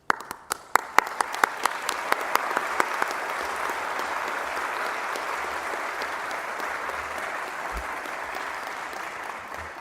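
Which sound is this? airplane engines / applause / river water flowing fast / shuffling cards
applause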